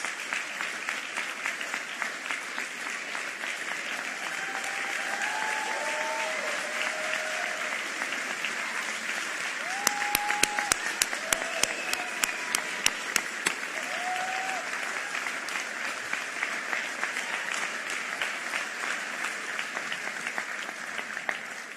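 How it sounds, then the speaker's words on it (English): An auditorium audience gives a long, sustained round of applause, dense and even clapping that runs on for over twenty seconds, with a few brief whistles rising above it. "Please rise so that we can give you a big round of applause."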